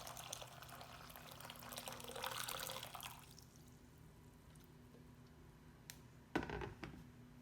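Boiled water is poured into a pot of almonds on an electric stove for almond milk, giving a brief splashing pour followed by quieter settling water and a couple of faint clinks.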